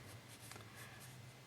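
Pencil scratching a long zipper line down the middle of a drawn uniform on paper, a steady soft graphite rasp with faint repeated strokes, quiet and close.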